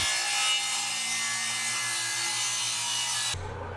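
A table saw rips wooden boards lengthwise for a rolling shop cart, producing a loud, steady whining blade roar up close that cuts off abruptly near the end, leaving a low hum.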